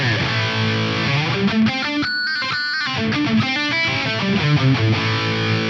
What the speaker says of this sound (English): I'm using the USA Mark IV lead mid bright for a big smooth lead sound on here.